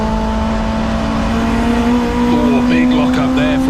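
Touring race cars, including turbocharged tin-top saloons, battle closely on a racing circuit, their engines holding a loud, steady drone with rising revs and brief higher whines near the end.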